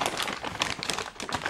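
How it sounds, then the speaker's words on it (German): A hand rummages through a bag of ice-cream flavour concentrates for vaping liquids, giving close, soft crinkling and rustling of packets in quick irregular bursts. "Und ich greife jetzt einfach in die Tüte und ziehe"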